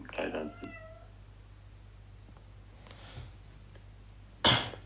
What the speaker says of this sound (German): meine Katze will raus